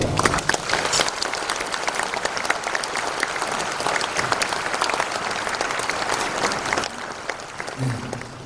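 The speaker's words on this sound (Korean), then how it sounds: "다시 한번 박수 받으시기 바랍니다." An audience at the 51st Korea National Prayer Breakfast claps steadily in a dense, sustained round of applause that fills the hall and tapers slightly toward the end.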